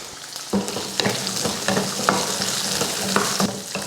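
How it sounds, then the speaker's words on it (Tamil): Shallots, garlic and ginger sauté in a pan with a constant sizzling hiss and repeated knocks and scrapes of stirring, close and moderately loud, with no talking. "இதெல்லாம் நல்லா வெங்காயம், வெள்ளை பூண்டு, இஞ்சியெல்லாம் நல்லா வதங்கி வரட்டும்"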